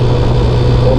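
A used SYM Symphony motorcycle engine drones steadily while being ridden, a loud close hum with constant low rumble throughout, and a voice faintly present.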